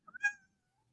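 A house cat gives a single short meow, close and clear, lasting under half a second and preceded by a brief chirp, with silence after.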